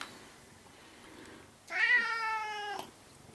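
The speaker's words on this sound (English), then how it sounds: "And look, the cat's here for me." A cat gives one clear, drawn-out meow close by, rising out of a quiet room background and lasting about a second before fading back to low ambience.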